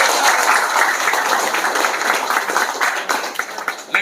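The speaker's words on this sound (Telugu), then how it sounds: "గట్టిగా క్లాప్స్ కొట్టిన అందరూ." A crowd at a Janasena joining event in Gajapathinagaram claps loudly and unevenly, a dense patter of many hands that thins toward the end, with no talk over it.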